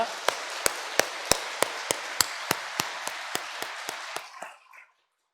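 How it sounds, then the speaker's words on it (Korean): A church congregation at a Sunday worship service claps in a steady rhythm of sharp, evenly spaced beats that fade out near the end. No voices are heard over it. "이 좋은 날 주신 우리 하나님께 영광의 박수 한 번 더 올려 보내드리겠습니다."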